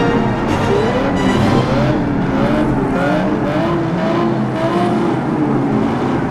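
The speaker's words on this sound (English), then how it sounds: "Press the pedal to accelerate." A car engine in a racing video game revs and accelerates steadily, a loud continuous whine that rises in pitch in waves over a rumble, with no talking.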